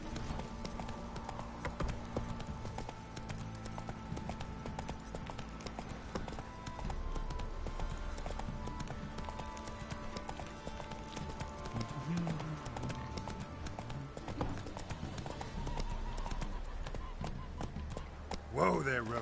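Hooves of Roach, the horse in The Witcher 3 video game, clip-clop in a steady running rhythm throughout, close and moderately loud beneath game music and a voice that speaks.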